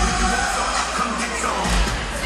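A big crowd at a youth hockey game between Granite City and Alton cheers and murmurs steadily throughout, a broad, continuous wash of voices with no distinct speaker on top.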